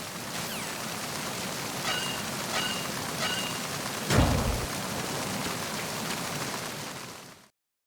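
Heavy rain pours onto the deck of a tanker ship in Metal Gear Solid 2, a loud dense hiss throughout with a brief low rumble midway, then it cuts off at the end.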